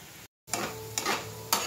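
Eggplant and drumstick flowers frying in a pan, a quiet sizzle broken by a few scraping stirs, with a brief moment of silence near the start.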